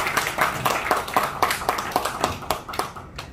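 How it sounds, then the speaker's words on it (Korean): An audience at a Korean commemorative lecture applauds to welcome a guest giving a congratulatory address: steady, fairly rhythmic clapping from a modest crowd that thins out toward the end. "박수로 맞이해 주십시오"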